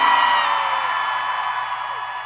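Loud concert crowd at a stadium show screaming and whooping for the opener, a sustained dense roar of many voices that tapers slightly.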